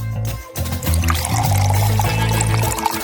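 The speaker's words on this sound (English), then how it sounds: "Probably you need to pour milk on it." Milk pours steadily onto a chocolate ball, a continuous close liquid stream lasting a few seconds after a brief pause.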